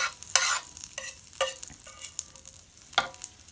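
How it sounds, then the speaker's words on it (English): Bread toasting in a pan in an RV kitchen for pimento cheese patty melts: a few sharp scrapes and clinks with ringing tails over a faint, quiet sizzle, spaced irregularly. "I'm just going to toast the bread in here"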